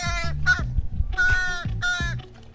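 A crow caws four times in a loose rhythm, harsh and fairly close, with no other sounds.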